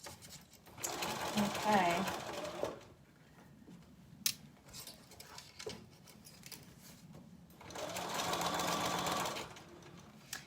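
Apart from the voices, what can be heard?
sewing machine sewing a tacking stitch around a hemline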